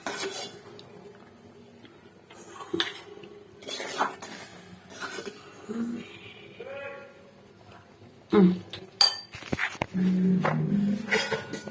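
Two plates being taken out and handled, with scattered ceramic clinks, knocks and scrapes of dishes and cutlery, close by, ending in a louder cluster of clatter, while a voice talks intermittently.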